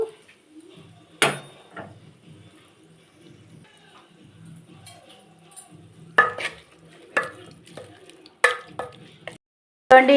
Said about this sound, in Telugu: ఇంగ్రీడియంట్స్ అయితే వేయించుతున్నానండి